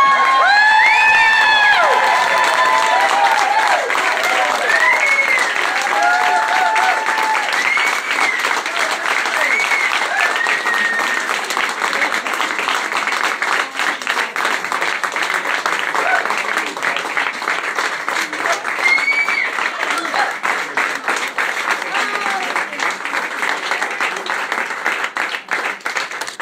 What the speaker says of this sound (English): Everyone, please join me in cheering for the representative of the 13th.